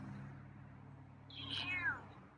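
A feral cat named Scruffy gives a single weak, drawn-out meow, fairly close, over a steady background hum.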